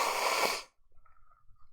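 A person blows their nose with one loud, hissing burst of airflow lasting about half a second, close to the microphone, then stops abruptly, leaving faint soft rustles and a quiet tonal hum afterward.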